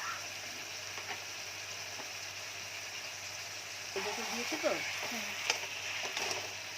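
Taro leaf curry with hilsa head, turmeric and dry chili powder frying in a pan, giving a steady low hiss of sizzling, with a brief voice murmuring partway through.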